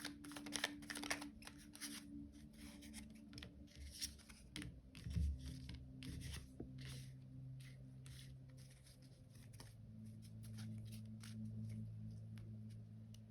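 A deck of oracle cards is shuffled by hand, a quiet run of rapid riffling flicks and soft slaps close by, continuing steadily with a faint low hum underneath.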